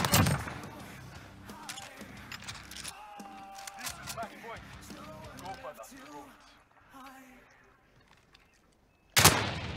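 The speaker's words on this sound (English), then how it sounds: "Oh, I fucking shot my gun instead" Gunshots in a 2v2 video game gunfight, a burst of sharp shots at the start and a loud shot near the end, with talk and game noise in between.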